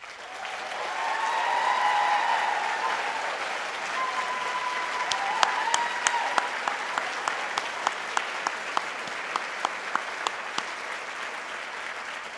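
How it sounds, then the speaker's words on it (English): Graduation audience at a King's College encaenia gives faculty and college staff a long round of applause, a broad wash of clapping that swells, then thins into scattered individual claps near the end. "A round of loud and boisterous applause to show your gratitude and appreciation to them"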